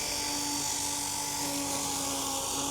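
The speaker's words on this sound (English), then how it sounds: "The mower's going through some really thick stuff here." An FJ Dynamics FR4000 robotic lawn mower slowly cuts through thick grass, with grass caught in its blade. A steady, close electric whine with a constant high-pitched tone runs throughout, and nobody speaks.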